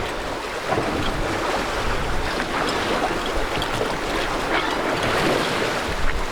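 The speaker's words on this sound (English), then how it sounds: "Got 8 knots going downwind. First spinnaker sail of the year." A sailboat running downwind under spinnaker at about 8 knots, heard as steady loud wind rush and water wash against the hull, continuous and even throughout with no clear voices.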